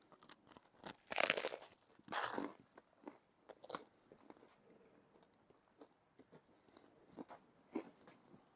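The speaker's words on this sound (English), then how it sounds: "Chewing time." Someone chewing a crunchy snack, with loud bites and crunches early on, then softer, irregular chewing sounds that continue close by with no talk.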